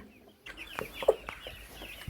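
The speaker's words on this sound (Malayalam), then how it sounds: "ആ കോഴി ഇപ്പോൾ എല്ലാ കുഞ്ഞുങ്ങളെയും തൻ്റെ ചിറകിൽ ഒതുക്കി ചൂട് കൊടുത്തുകൊണ്ടിരിക്കുകയാണ്" A mother hen gives a few soft, low clucks close by while sheltering her chicks under her wings, with faint high chick peeps scattered over a quiet background.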